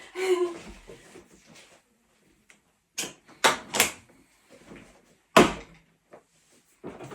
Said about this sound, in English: I lift the bottom latch, but I forget to like pull the door forward so it actually comes out of its slot